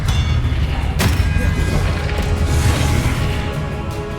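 Spell impact from Expelliarmus cast in Hogwarts Legacy, a sharp boom at about one second over a dense, loud game soundscape of rumbling effects and music, with a voice shouting spells nearby.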